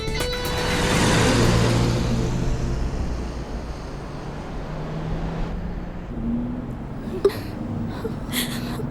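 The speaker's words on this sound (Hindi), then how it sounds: "ए, गाड़ी स्टार्ट कर, जल्दी चला।" A car engine fires up and revs hard, then pulls away with a loud, rough roar that eases into a steady drive during a tense action scene; no one speaks.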